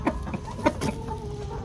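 A few hens cluck softly nearby, short throaty notes spaced irregularly over a quiet background.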